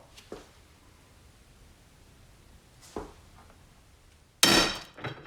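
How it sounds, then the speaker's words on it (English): A Channellock 48-tooth ratchet on a torque tester strains with a few faint ticks and knocks, then gives way with one sudden, loud, sharp snap near the end, followed by a short rattle. "So now we'll go ahead and take the channel lock to failure. This is a 48 tooth ratcheting mechanism."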